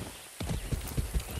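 Horse hooves clip-clop in a steady, uneven rhythm in the video game Far Cry 6, close and clear over a constant background wash, with a brief neigh blending in.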